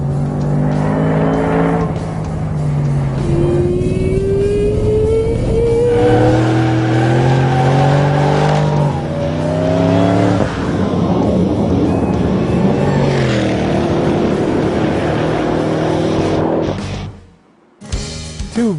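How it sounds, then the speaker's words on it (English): A Shelby sports car on a road course revs hard through repeated rising gear pulls, the engine roaring loudly and close, with brief tire squeal before the sound drops away near the end. "if you get on the throttle too fast, it will just light the tires up"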